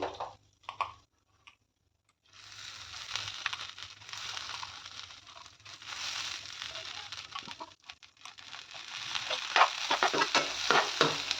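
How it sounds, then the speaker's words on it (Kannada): Moong dal frying in a kadai over a low flame gives a steady, close sizzle, with stirring scrapes and soft crackles throughout after a brief quiet start. "ಇದೇ ಕಡಾಯಿಗೆ ಎಷ್ಟು ಬೇಳೆನ ಹಾಕ್ಕೊಂಡು ಫ್ರೈ ಮಾಡಿಕೊಡ್ತೇನೆ"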